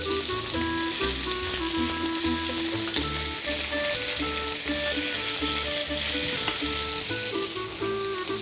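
Food fries in a small amount of oil in a pan, giving a steady, even sizzle with soft crackles throughout. Background music plays underneath the frying.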